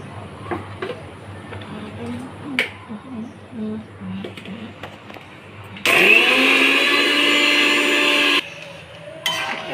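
An electric blender grinds roasted spices and dried red chillies into a paste, a loud whirring burst of a few seconds following quieter kitchen bustle and talking.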